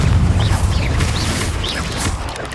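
Confringo blasting spell explosion in Hogwarts Legacy, a loud booming burst at the start fading into rumbling debris with faint high squeaks over it.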